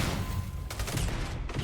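Burst of gunfire echoing from down a hall inside a video game, a dense rattling fusillade that runs steadily through the moment, fairly close and continuous with sharp overlapping cracks.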